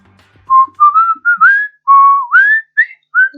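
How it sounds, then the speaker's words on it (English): A clear, close melodic whistle in a video game, a run of about nine short pitched notes with small slides between them, loud and alone without talk. "whistling would sound bad anyway"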